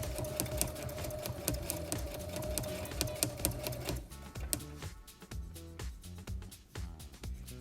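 A Brother CS7000i sewing machine stitching through foam for a cowboy hat, a steady rapid mechanical chatter that runs continuously, then slows and stutters into uneven bursts as the stitching speed varies.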